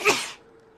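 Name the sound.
sneeze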